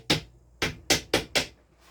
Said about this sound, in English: you can use a hammer to lightly tap just to cure it a little harder there